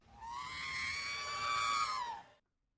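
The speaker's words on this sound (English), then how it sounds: "R2-D2 scream!" A robot-droid scream sound effect in the style of R2-D2, a sustained, harmonically rich wail that holds for about two seconds and then cuts off abruptly into silence.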